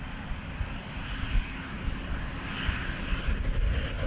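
An Embraer jet at Amsterdam Schiphol Airport gives off a steady, broad engine roar that holds at a moderate distance throughout, with no voices over it.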